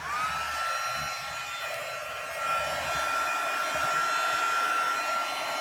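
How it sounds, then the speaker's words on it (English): A heat gun blows hot air onto a candle for stamped embossing, giving a steady, loud, unbroken whooshing roar with a faint high whine, running alone without talk. "So I'm taking my heat gun and I'm just going to let this heat up for a second."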